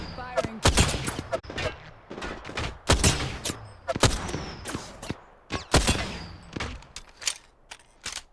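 Rapid bursts of gunfire from Apex Legends, with repeated sharp shots and short volleys spread across the clip, some loud and close, others farther off, with talk in between.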